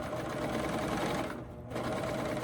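A serger runs steadily, sewing a two-thread fringe stitch with a dense, continuous mechanical whir. It pauses briefly midway and then resumes, close and loud, with no talking.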